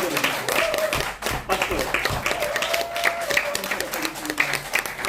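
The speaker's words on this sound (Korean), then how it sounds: "감사가 성공하는 비결입니다. 박수." Clapping from an audience at a laughter-coaching lecture, uneven and rhythmic with distinct hand strikes, while a voice speaks and sings over the claps throughout.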